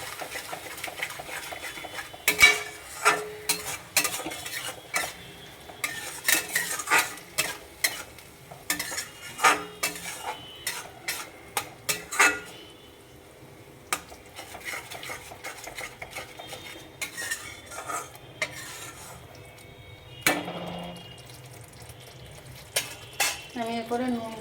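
A Bengali-style Katla fish kalia with yogurt stirred in a pan, with steady rhythmic spatula scrapes and clinks over a soft frying sizzle, sometimes pausing, and brief talk now and then.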